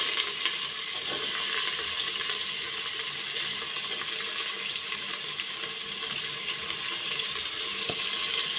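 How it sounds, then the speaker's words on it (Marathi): Chopped onion frying in a pan for chicken biryani, a steady dense sizzle with bright hiss that holds even and close throughout, with no talk over it. "यामध्ये हा चिरलेला कांदा टाकणार आहे."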